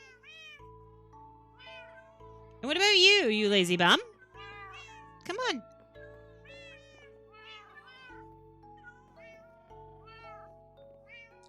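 A Minecraft cat meows repeatedly in the single-player Java 1.14.2 game, with one long loud mewl followed by a shorter one and fainter meows scattered among background game music, while someone talks.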